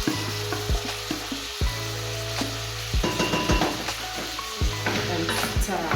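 Carrots, courgettes and eggplants stir-fried with tomatoes in a pan: continuous loud sizzling broken by repeated sharp scrapes and knocks of a spoon against the pan at an irregular rhythm, with no speech.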